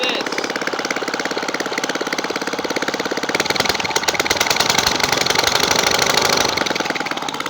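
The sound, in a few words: lawnmower engine running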